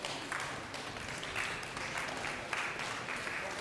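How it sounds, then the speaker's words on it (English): An award ceremony audience claps and cheers during a group selfie, a distant and fairly quiet burst of steady clapping with a few louder swells. "maybe cheer, clap your hands while we're taking a selfie for Andy and the company"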